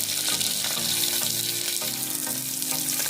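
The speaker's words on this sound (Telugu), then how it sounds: "ఇందులో తాలింపు గింజలు, ఎండుమిర్చి, దాంతోపాటు ఉల్లిపాయ ముక్కలు, ఒక లావు ఉల్లిపాయ వేస్తే సరిపోతుంది." Tempering seeds, dried red chilies and chunks of a fat onion fry in hot oil for a tomato drumstick curry, giving a steady close sizzle with light stirring scrapes under faint background music.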